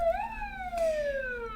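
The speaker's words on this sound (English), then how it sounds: "we've got to get the other siren back because it was more alarming" A single electronic siren sweeps up briefly and then slides down in a long, clear, wavering wail, up close and alone without speech.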